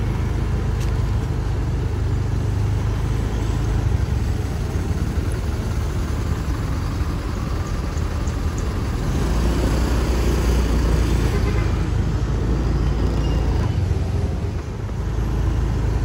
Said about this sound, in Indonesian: Dan ini di depan kita bis Damri ke bandara.